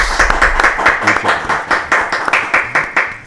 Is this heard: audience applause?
yes